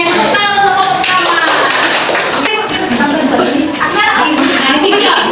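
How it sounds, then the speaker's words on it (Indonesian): Children in a classroom clap together for the first group during a Tajwid lesson, a loud, dense patter of many small hands with young voices mixed in throughout. "tepuk tangan untuk kelompok pertama"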